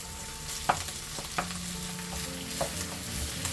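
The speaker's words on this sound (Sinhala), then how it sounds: "බත් ටික එකතු කරගෙන මේක හොඳට මෙහෙම කලවම් කරගෙන" Cooked rice is tipped into a hot pan of mushrooms and stirred for mushroom fried rice, with a few sharp spoon knocks against the pan over a steady low sizzle, nearby and alone.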